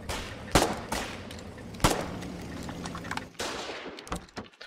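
Machine gun nest firing in a video game: several loud, sharp bursts of gunfire with a few spaced louder cracks, no talking.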